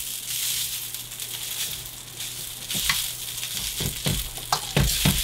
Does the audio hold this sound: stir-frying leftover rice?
yes